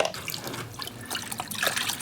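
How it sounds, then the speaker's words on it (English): Water poured into a gold pan holding black sand and mercury, a quiet, uneven splash and trickle with small swells that keeps running throughout, no voices. "Put some more water in there."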